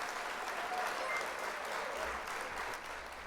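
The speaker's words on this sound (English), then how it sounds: "We're gonna hit the applause for that." A canned applause effect plays during a live stream of building a LEGO Corvette C8.R and a 1969 Corvette, a steady, dense wash of clapping and cheering holding at an even level throughout.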